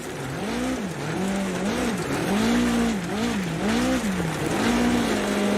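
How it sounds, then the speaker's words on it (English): Car drifting with the rear wheels sliding, a loud wavering tire squeal rising and falling in repeated swells over engine noise, close and continuous. "as soon as you feel the rear end start to slide back out"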